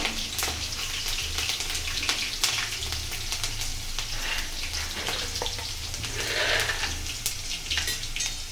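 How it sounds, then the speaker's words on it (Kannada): Avalakki oggarane cooks in a pan with a steady, close sizzle and crackle of frying throughout, with no talking. "ಸ್ವಲ್ಪ ಚೆನ್ನಾಗಿ ಫ್ರೈ ಆಗಲಿ"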